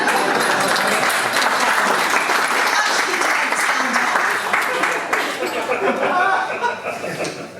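A crowd at a book launch claps and applauds loudly, with some chuckling and chatter mixed in, the clapping tapering off toward the end.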